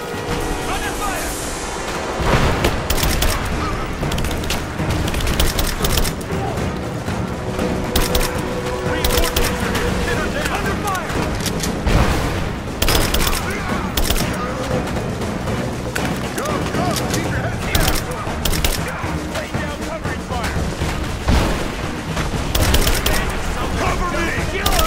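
Heavy, sustained gunfire and explosions in the Rise of the Tomb Raider video game, loud repeated shots and booms over a dense battle din, with shouted voices mixed in.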